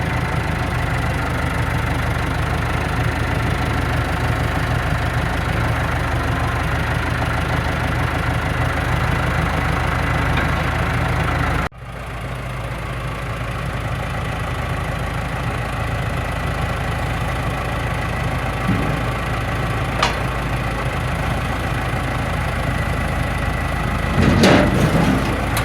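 A tractor engine idles steadily, a low, constant drone close by; partway through the sound shifts abruptly, then settles back to the same idle, with a brief rise in noise near the end.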